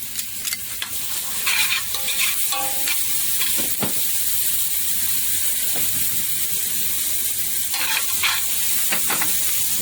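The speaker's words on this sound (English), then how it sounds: "so all that garlic is going in there" Garlic fries over lowered heat in a pan with a steady, loud sizzle and hiss, while a utensil stirs and scrapes through it in irregular strokes. No voices are heard.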